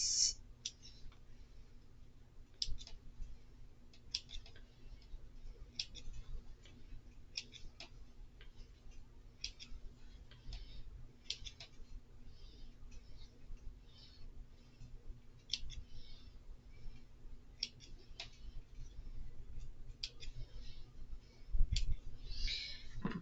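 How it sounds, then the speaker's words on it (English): Scissors trimming threads between chain-pieced quilt blocks give quiet, close snips and clicks, scattered irregularly, sometimes in quick pairs, over a faint steady hum. "I'm just going to trim my threads"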